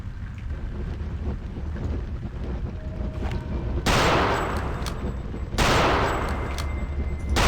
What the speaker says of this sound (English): Oh, I hear the flamethrower.